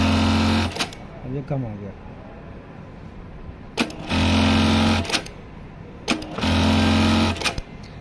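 A BARTECH industrial sewing machine runs a programmed stitch pattern in three loud, steady mechanical bursts of a few seconds each, with someone speaking Hindi in the pauses between runs.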